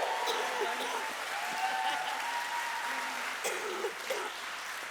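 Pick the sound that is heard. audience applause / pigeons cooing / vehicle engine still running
audience applause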